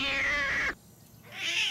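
A cat gives a loud, drawn-out meow, a short pause follows, then a second meow begins, close and alone with no talk.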